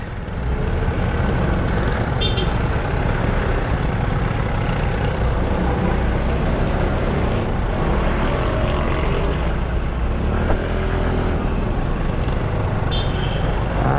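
Busy road traffic in Laguna, Philippines, with trucks and buses passing: a steady, loud engine rumble and hiss runs continuously, with a few brief higher squeals or horn-like tones rising out of the drone.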